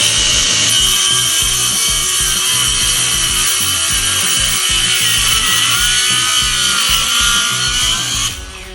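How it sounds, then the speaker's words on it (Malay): Power saw cutting through a one-inch-thick piece of wood, a loud continuous high whine with a grinding rasp that runs steadily for about eight seconds before trailing off, with no talking. "So jom kita try potong kayu seinci tebal ni. Letak macam ni, lepas tu potong lah."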